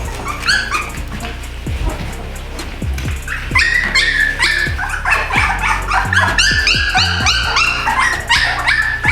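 Young puppies close to three weeks old yip, bark and whimper in quick, overlapping bursts, loud and close, with high squeaky cries layered over short thumps of movement.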